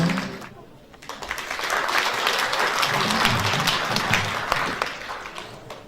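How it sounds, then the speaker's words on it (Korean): Sustained audience applause at a 2015 charity event for people with disabilities, rising after a quiet start into a steady, dense wash of clapping from a large crowd, heard alone without talk. "큰 박수 부탁드리겠습니다"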